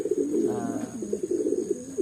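Racing pigeons coo close by in soft, throaty, rolling calls that repeat in a low burbling rhythm, with no voices heard.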